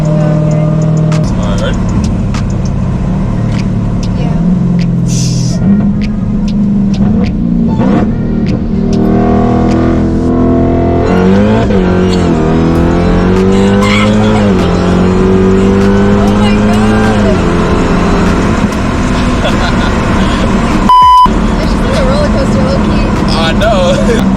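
A 1000-horsepower Dodge Hellcat pulls hard on a cold freeway, its engine note climbing through rising gear sweeps. The roar is loud and close from inside the cabin, with voices talking over it.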